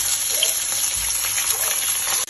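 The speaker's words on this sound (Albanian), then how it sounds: "Tani në ndërkohë që peshku skuqet" Fish fries in a pan with a steady, loud sizzling hiss that fills the whole stretch, dipping briefly just before the end, with no talking.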